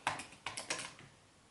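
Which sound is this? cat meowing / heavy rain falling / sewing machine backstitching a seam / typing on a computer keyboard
typing on a computer keyboard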